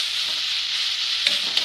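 Carrots sauté in a pan for a vegetable bread omelette, giving off a steady bright sizzle with a couple of short scraping stirs near the end.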